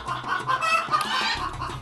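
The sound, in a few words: hens clucking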